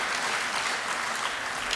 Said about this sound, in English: I'm glad to see there are a few people that would clap at that response